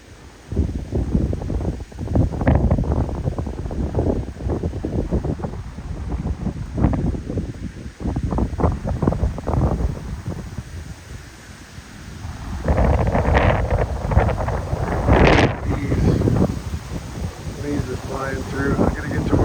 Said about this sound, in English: wow, the wind is really blowing.